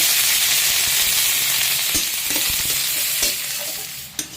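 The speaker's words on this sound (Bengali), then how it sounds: "পেঁয়াজটা ভালোভাবে ভেজে নিতে হবে" Onions fry in hot oil in a kadai outdoors, giving a steady, close sizzle with scattered scraping stirs and crackles, loud throughout and ending on a sharp clack.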